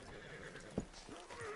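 A horse in the Red Dead Redemption 2 video game gives one sharp, close neigh, with soft hoof clops and quiet game ambience around it.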